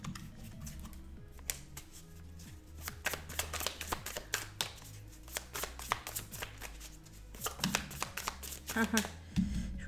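A deck of tarot cards is shuffled by hand, with repeated riffling and flicking rustles close to the microphone as a person keeps talking over them.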